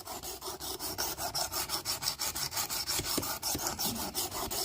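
A kitchen knife is drawn across the abrasive of a Work Sharp Precision Adjust sharpener in steady, repeated rasping strokes, each stroke a close, even scrape with a regular rhythm and no talk.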